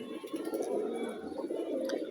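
Pigeons cooing softly and continuously after a bath, a low steady murmur of overlapping coos with no voices.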